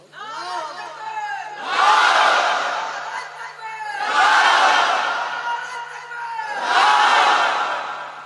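A large crowd at an Islamic sermon gathering shouts the takbir together in three loud unison bursts, each call rising to a roar and fading, with a single leading voice before each.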